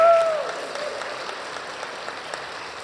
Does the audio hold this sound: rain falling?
no